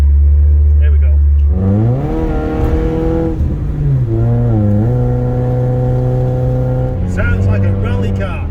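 A Peugeot 416GTi engine revving hard with a loud, crackly, too-loud exhaust, rising and falling through several pitch sweeps up close, with someone talking over it.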